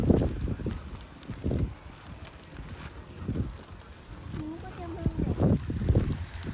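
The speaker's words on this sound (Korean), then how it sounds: "아싸, 바람 분다" Outdoor wind gusting against the microphone on a hot day. Low rumbling blasts swell and fade repeatedly, loud and close, while people talk over it.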